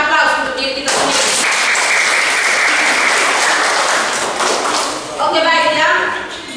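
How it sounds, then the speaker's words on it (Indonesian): Loud, dense applause from a class of students fills a school classroom, sustained for several seconds before tapering, with a teacher's voice speaking briefly before and after. "Sekali lagi kita berikan aplaus untuk diri kita sendiri."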